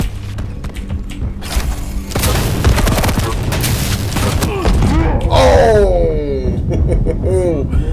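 Shotgun blasts from the video game Quake Champions, booming repeatedly in a dense, loud run of gunfire and game effects, with a player's excited voice talking and shouting over it.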